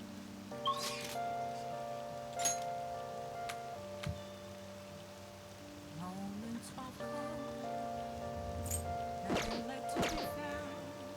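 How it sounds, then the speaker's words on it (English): Rain falling in the video game Persona 5 Royal, a soft continuous patter of raindrops beneath sustained background music tones, with a few sharper hits standing out. "The sound of raindrops increases my focus."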